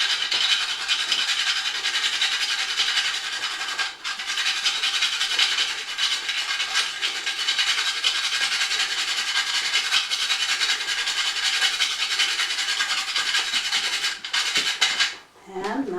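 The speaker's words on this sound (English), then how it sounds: "this is a whole nutmeg, and I'm just going to grate it right into the sauce" A whole nutmeg scraped steadily against a grater over a pan of béchamel sauce, a continuous close, bright rasping that runs for about fifteen seconds without pause before stopping.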